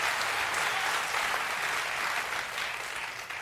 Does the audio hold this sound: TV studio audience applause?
yes